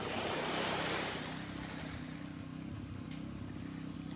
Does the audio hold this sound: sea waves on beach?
yes